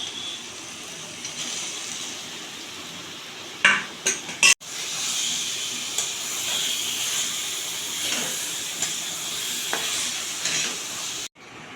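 Chicken added to hot spiced oil in a pan sizzles steadily with a bright, hissing fry, broken by a few clattering stirs and clinks of a spoon against the pot, close and continuous.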